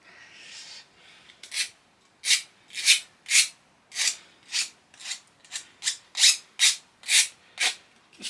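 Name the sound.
filing burrs off cut mild steel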